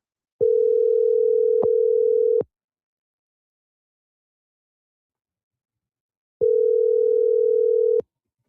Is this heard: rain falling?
no